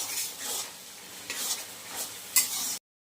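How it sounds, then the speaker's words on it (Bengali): Ginger and garlic being sautéed in a frying pan during cooking of a pumpkin, Malabar spinach, chickpea and prawn ghonto, with steady stirring scrapes and a low sizzle, ending in a sharper clink. "এবার আমি একটু আদা রসুন দিয়ে কষিয়ে নেব।"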